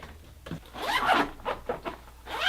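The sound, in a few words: zipper opening a bag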